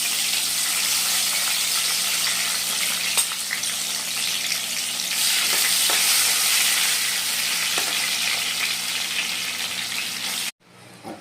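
Chopped tomatoes frying in a pan for a vegetarian soybean curry, giving a steady loud sizzle with faint stirring scrapes throughout before cutting off abruptly near the end.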